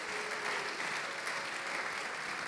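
A church congregation applauds the Lord during a Sunday repentance sermon, a steady, dense wash of clapping from many hands that holds evenly throughout, with no speech over it.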